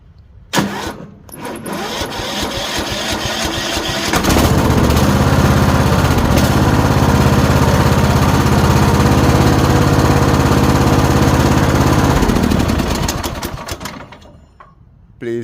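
A Troy-Bilt Bronco lawn tractor engine cranks with a few short rattling turns, catches and roars loudly at a steady close idle for about eight seconds, then winds down and cuts off.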